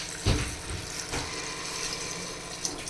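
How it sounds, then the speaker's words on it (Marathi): Water is poured into a pot of rice for Maharashtrian pavta masale bhat, a close, continuous splashing gush with a stronger splash near the start. "आणि आता आपण याच्यामध्ये पाणी ॲड करणार आहोत."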